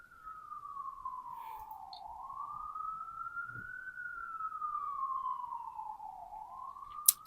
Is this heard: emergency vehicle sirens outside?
yes